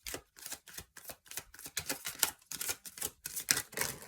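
Kipper fortune-telling cards being shuffled by hand, a rapid run of crisp papery riffles and flicks in short bursts, close and fairly loud, with no talking.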